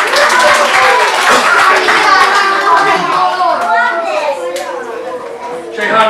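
Children clap along during a storytelling performance of a folk tale, with a scattered ripple of small hands amid lively child chatter and an adult voice speaking over it.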